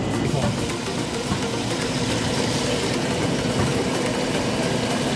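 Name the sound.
mold water channel cleaning machine running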